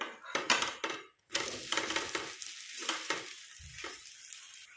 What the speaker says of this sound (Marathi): याच्यावरती तेल सोडून घेऊया आणि याला आता आपण पलटी करून घेऊ